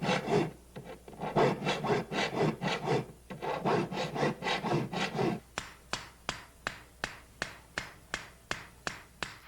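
Teeth of a Japanese handsaw given rough sharpening with a file, close rasping strokes in a fast, even rhythm that shift to sharper, spaced single scrapes toward the end.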